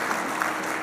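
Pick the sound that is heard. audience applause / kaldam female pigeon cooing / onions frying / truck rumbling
audience applause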